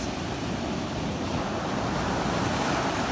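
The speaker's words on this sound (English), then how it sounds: "And the ocean's awesome." Ocean surf rolls continuously onto the shore, a dense steady wash of waves with some wind rumble, loud and unbroken, no voices.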